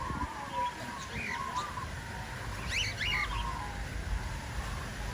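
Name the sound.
parrots calling at a bird park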